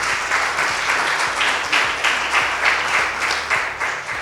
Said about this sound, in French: mais vous pouvez applaudir Isabelle, pardon